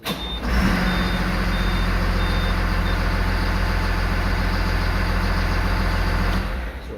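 A Cat IT28G wheel loader's diesel engine cranks and catches, then settles into a loud, steady low rumble close by, with a faint intermittent beeping at the start before the engine cuts off near the end.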